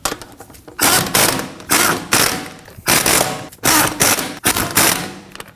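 A ratchet snugs down lug nuts on a Ford Edge rear wheel in a star pattern, producing several loud, close bursts of rapid clicking separated by short pauses.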